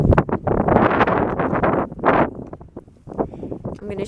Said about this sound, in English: oh, here's the wind.